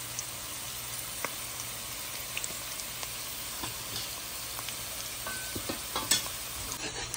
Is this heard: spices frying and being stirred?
yes